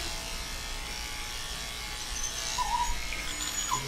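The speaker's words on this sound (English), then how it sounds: "How do you guys like these clippers in comparison to the cordless or battery ones?" Corded electric dog grooming clippers running at close range, a steady low buzzing hum for a few seconds with faint high whines over it.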